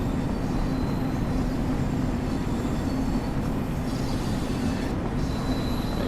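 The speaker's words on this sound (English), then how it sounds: "Maybe that's the train arriving." A train in the video game Train Sim World 2 rumbles steadily with a dense low roar and faint metallic whine, continuous and fairly loud throughout.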